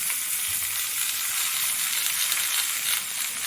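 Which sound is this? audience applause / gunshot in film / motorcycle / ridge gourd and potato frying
ridge gourd and potato frying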